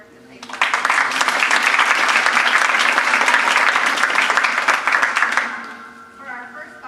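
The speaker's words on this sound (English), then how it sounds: "I want to give them a round of applause for the good work that they've done" An audience at a GLE style show and meeting gives the nominating committee a round of applause: many hands clapping loudly and steadily for several seconds, then fading, with voices following.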